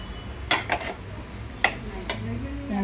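A spoon stirs soaked sabudana through a pan for sabudana khichdi, with four or so sharp metallic clinks and scrapes spaced irregularly over a low background, and a faint voice briefly at the end.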